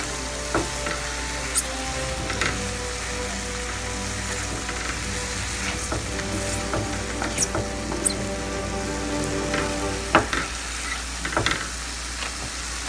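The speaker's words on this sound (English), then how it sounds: "On the other hand, we have our onion, ginger and garlic sauteing here." Onion, ginger and garlic sautéing in a pan, a dense, even sizzle like light rain with scattered pops and occasional utensil clicks, steady throughout and free of speech.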